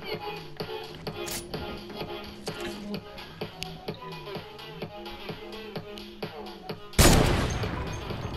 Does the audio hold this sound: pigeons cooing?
no